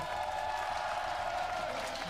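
A crowd at an LEC Summer esports match cheering and applauding: a steady, moderately loud wash of clapping and crowd noise that runs the whole time, with no distinct talking.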